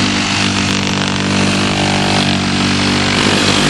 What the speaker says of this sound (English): using my jigsaw, making the far end panel for the little greenhouse setup